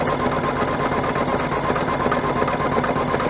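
An embroidery machine stitches through a vinyl luggage tag with a steady, fast mechanical whirring hum that runs unbroken at an even, fairly loud level throughout.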